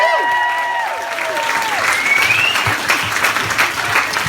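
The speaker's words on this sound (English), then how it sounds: "Give yourself a round of applause just for being here." Crowd applause at a vegan activist bootcamp Q&A, dense steady clapping with whoops and cheers over it early, staying full and even throughout.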